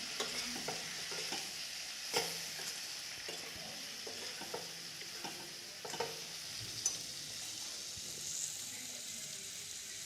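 Boiled peas being stirred into a vegetable curry in a pan, a steady close sizzle with repeated scraping strokes of a spoon against the pan.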